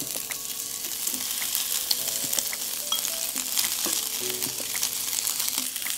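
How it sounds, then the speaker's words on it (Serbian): Skin fries in a hot pan with a constant crackling sizzle, small pops and spatters scattered throughout at close range. "stavit ću kožu da se proprži dok ne postane fino hrskava"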